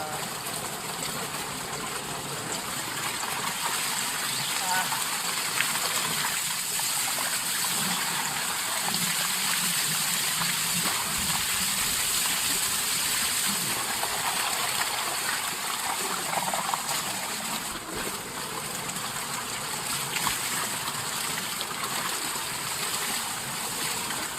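Water gushes and splashes continuously in a farm bathtub during bathing, a steady close churning wash with small splashy variations throughout.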